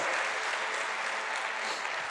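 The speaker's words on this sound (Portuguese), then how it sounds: "Pode dar uma salva de palmas a Ele bem forte?" Congregation applauding during a church sermon, a dense, even wash of many hands clapping loudly and continuously without pause.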